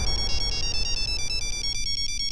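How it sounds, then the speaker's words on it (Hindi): A phone plays an electronic ringtone, a bright melodic pattern of high tones that repeats steadily at moderate loudness, with no talking. "हमारे पति का ही फोन है"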